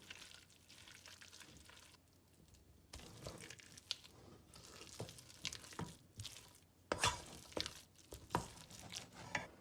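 Rice flour and starch being mixed into a cooked turnip mixture for turnip cake, soft squelching and scraping strokes in bursts with short pauses, fairly quiet and close.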